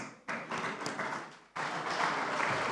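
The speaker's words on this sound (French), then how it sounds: "Si vous pouvez vous lever, s'il vous plaît, qu'on vous applaudisse." Audience at a television gathering applauds the British ambassador in two sustained waves of clapping, a moderate first burst followed by a fuller, denser round after a brief pause.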